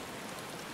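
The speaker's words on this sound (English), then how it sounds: "I think it's actually very fitting that it's raining right now." Steady rain hissing in Final Fantasy XIV, a soft, even wash of falling drops at low level with no voices or other sounds over it.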